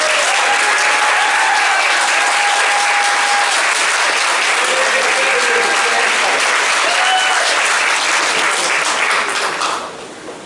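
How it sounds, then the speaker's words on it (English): Sustained, loud audience applause welcoming a debate moderator, dense clapping with faint crowd voices running steadily for about ten seconds before thinning out at the very end. "Please let's welcome our moderator for the night, Billy Corbin, with a warm round of applause."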